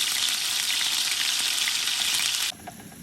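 Onion paste fries in hot soybean oil in a wok with a loud, steady, close sizzle that drops abruptly to a quieter hiss near the end.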